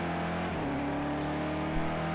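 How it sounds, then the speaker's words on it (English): A race car engine in the Project CARS 2 racing game holds a loud, steady drone, its pitch shifting slightly as the driver drops down into second gear for a corner. "Down into second, try and tuck the car into the corner."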